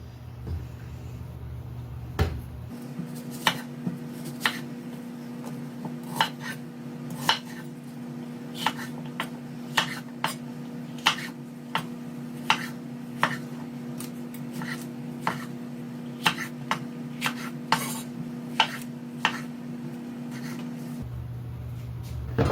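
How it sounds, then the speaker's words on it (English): A knife chops onion, bell pepper, sweet peppers and tomatoes on a cutting board, a steady series of close, crisp thuds repeating at an even pace over a quiet kitchen hum. "So let's get all this chopped up."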